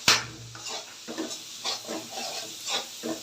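Onions and chillies frying in a pan while a Bengali hilsa and brinjal curry is being cooked, soft sizzle broken by repeated scraping stirs at a steady rhythm, fairly quiet and close.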